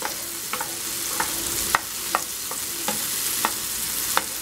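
Mushrooms cook in butter under a steady sizzle while a utensil pushes them around the pan, giving about ten sharp, evenly spaced scraping clicks over the hiss.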